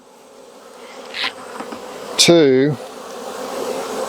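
Honey bees hum in a hive during a July check, a steady close buzz that rises briefly as a short spoken word cuts in over it.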